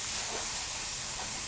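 Carrots stir-fried in a little water instead of oil give off a steady, dense hiss of sizzling and steam, unbroken and fairly quiet throughout.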